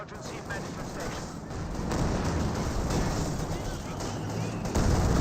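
Mortar fire in the video game Company of Heroes 2 thuds and rumbles through a steady wash of battle noise that swells in the second half, with commentary voiced over it.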